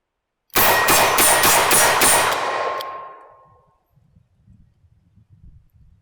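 Rapid string of .357 Magnum gunshots firing 125 grain jacketed hollow point rounds at a range, about six loud close cracks in quick succession, followed by a long ringing decay and faint rustling.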